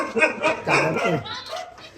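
A dog barks ahead on a road near a bullock cart, giving a few close, sharp barks in quick bursts while voices murmur in the background.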